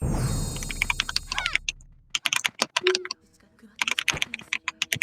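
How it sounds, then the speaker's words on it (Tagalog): Loud computer keyboard typing in bursts of sharp, rapid key clacks, close up, with pauses between runs and a brief stretch of background noise at the start. "Lakas naman ng keyboard na niya."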